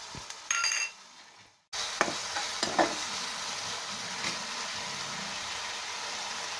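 Onions with ginger garlic paste and ground spices sauté in a pan for mutton keema, a steady loud sizzle broken by a brief lull and a few clinks of a spoon against the pan.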